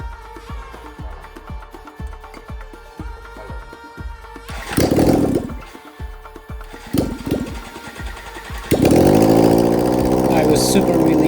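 BMW K1100LT motorcycle engine cranking with rapid ticking pulses, then catching and idling high and steady, growing louder near the end.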